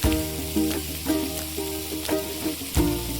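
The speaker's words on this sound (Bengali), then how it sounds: "বেগুনটা ভালোভাবে ভেজে নিচ্ছি" Eggplant, onion and green chili fry in oil, giving a moderate, continuous sizzle broken by a few sharp stirring scrapes, over a steady tonal hum in the background.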